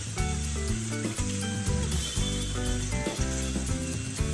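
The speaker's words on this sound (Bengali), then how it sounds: "মশলাটি আমি ভালোভাবে ভেজে নেব" Spice masala with garam masala powder sizzles in a pan for a Kerala-style chicken roast, a steady hiss of frying running under loud background music.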